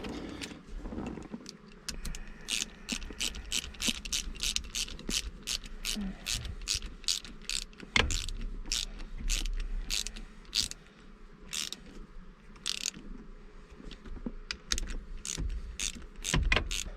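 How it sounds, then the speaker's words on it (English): A hand ratchet clicks in quick, steady runs, close and crisp, while bolts are tightened under a 1999 Chevrolet Camaro V6 fourth-gen F-body during an LS engine swap, with short pauses and a few clunks between strokes. "I got my ratchet."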